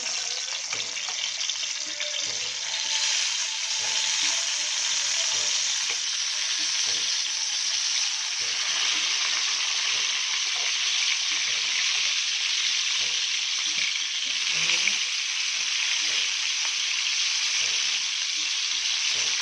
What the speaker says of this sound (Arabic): هي حالا بتتحمر، وعلى فكره بتتحمر بسرعه جدا جدا